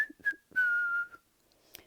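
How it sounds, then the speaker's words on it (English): A person whistles to call a rabbit: a few short clear notes followed by one longer sustained tone that slowly falls in pitch, heard close and alone. "you have to whistle for him, like this."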